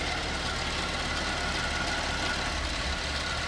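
A 2011 GMC Acadia with a 3.6 liter V6 and all wheel drive idles steadily, a constant low hum with a faint ticking texture, close by and unbroken with no talking.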